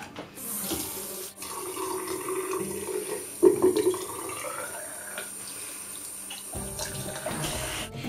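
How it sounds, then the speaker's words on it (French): Hot water from a tap runs into a bowl of shikakai powder, a steady trickling pour with a brief splashier burst midway, then the flow resumes softly near the end. "Je vais mettre de l'eau, donc j'ai essayé de lui mettre de l'eau chaude."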